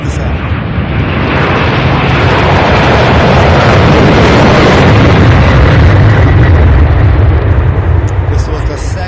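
A McDonnell Douglas MD-11 jet roars loudly at Louisville International Airport, a dense sustained rumble that swells slightly in the middle and holds steady throughout, close and powerful.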